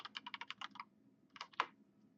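Fingers typing on a computer keyboard, a quick run of about ten soft clacks followed by a pause and a few more keystrokes ending in a firmer tap, quiet and close.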